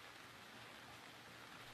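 Rain falling in the sci-fi noir video game Gemini Rue, a faint, uniform hiss of steady rainfall with no other sounds.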